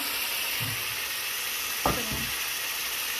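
Ginger and garlic sautéing in a pan while fish is cooked for a pre-dawn Ramadan meal, giving a steady soft sizzle throughout, with a couple of brief knocks and stirs partway through.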